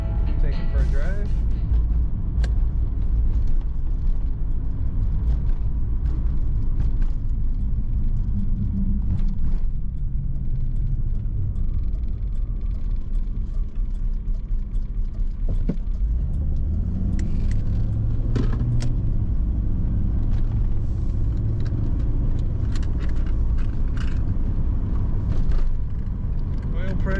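A 1992 Chevrolet Camaro RS drives along with a deep, steady engine and road rumble from inside the cabin, with light rattles and jangles over it and the pitch shifting midway.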